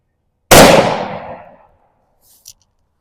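A single loud, close gunshot from a Zastava M59/66 A1 SKS rifle in 7.62x39 at an outdoor range, with a sharp onset and a decaying boom lasting about a second, then a faint click.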